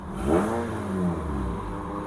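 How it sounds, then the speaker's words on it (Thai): A car engine, just started, is held at steady throttle around two thousand rpm, giving a loud, close, sustained hum with a brief rise at the start, and no talking. "เดี๋ยวผมเลี้ยงคันเร่งนะ ผมเลี้ยงไว้สองพันนะ"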